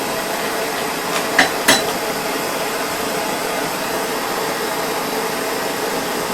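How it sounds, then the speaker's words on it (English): A few sharp hammer blows strike a hot old nail to bend it over an edge, in a beginner forging setup. Two or three quick strikes come early, under a loud, steady blower-like roar. "I'm going to hammer it. Hammer it over the edge."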